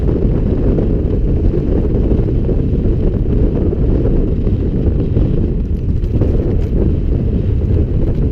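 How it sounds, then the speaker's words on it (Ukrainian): Strong, continuous wind roars and buffets loudly against the microphone of a Lifan motorcycle riding on forest roads, with no letup, a dense low rushing noise throughout. "Ну, Вітер, якщо чесно, Е, не малий"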